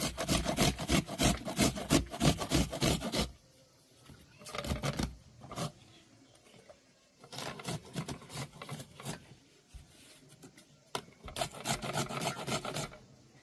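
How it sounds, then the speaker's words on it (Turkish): An onion for homemade mantı filling is grated on the finest grater, giving fast, harsh rasping bursts separated by brief pauses, fairly close and loud, with no talk. "Şimdi de şunları rendeleyeceğim dostlar. En ince rende."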